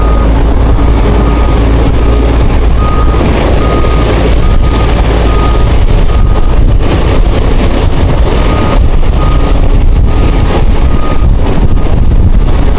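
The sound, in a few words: strong wind while fishing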